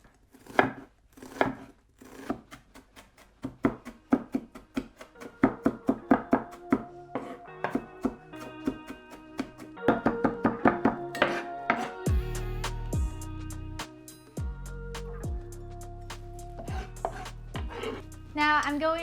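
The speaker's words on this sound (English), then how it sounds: "For the topping, we will use onion, and we will chop it really finely" Onion being chopped finely with a knife on a board, a rapid series of crisp close taps that slows and thins out, followed by pan clatter and metallic knocks later.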